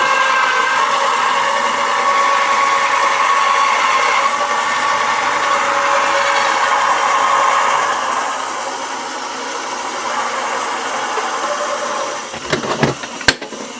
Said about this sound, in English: Okay, we're going to just feed this through. It is a little noisy. It is a noisier, but it's electronic.